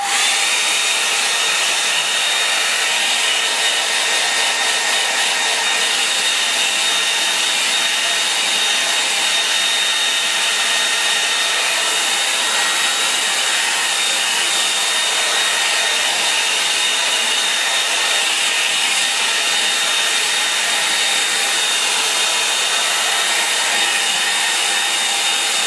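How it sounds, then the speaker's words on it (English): A hair dryer blows continuously to dry acrylic paint on an abstract painting, a steady loud whooshing drone with a faint whine that holds unchanged throughout, no voices. "If I give it a bit of a dry with a hairdryer, let's see what."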